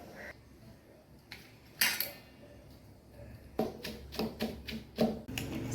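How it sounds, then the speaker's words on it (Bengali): Grated coconut, curry leaves and garlic being crushed by hand in a Kerala village kitchen, heard as a run of sharp, close pounding knocks and scrapes, sparse at first and then quicker toward the end, with no talking. "নারকেল কোড়া, কারি পাতা, রসুন, এইগুলোকে এবার একটু থেতো করে নিতে হবে"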